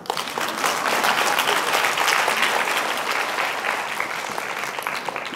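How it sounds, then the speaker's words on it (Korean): A roomful of teachers at a summer certification lecture breaks into applause, a dense, steady clapping that holds throughout at fairly even loudness and tapers only slightly toward the end. "이쯤 되면 박수 안 치나?"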